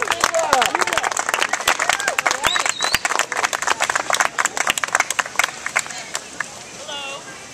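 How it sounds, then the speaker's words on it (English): A crowd at an Iraq Veterans Against the War speak-out in Urbana applauds a speaker taking the stage, a dense steady patter of many hands clapping that fades slightly toward the end. "everybody give her a round of applause"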